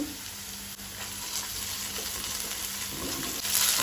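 Ginger garlic paste and onions sizzle steadily in a pan on a medium flame, a close, even frying hiss that holds its level throughout, with a brief dip partway and a slight rise near the end.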